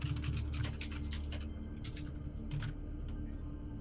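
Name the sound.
typing on a computer keyboard into the chat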